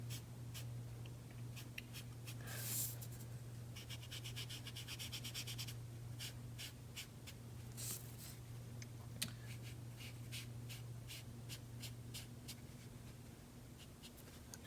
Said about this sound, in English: I'm going to try to be really precise with where I smudge this